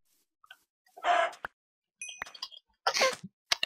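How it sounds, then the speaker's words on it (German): A Minecraft chicken gives a few short, sharp clucks and squawks in bursts against silence, with clicky game effects between them and no speech. "Oh, ein Huhn."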